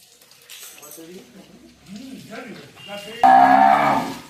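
Cattle at a dairy farm: a cow lets out a loud, drawn-out moo near the end, after quieter murmuring and faint animal sounds.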